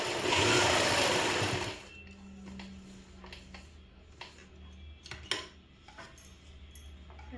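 A sewing machine stitches a school uniform, whirring loudly and steadily for under two seconds before stopping, followed by quiet handling clicks and rustles of fabric.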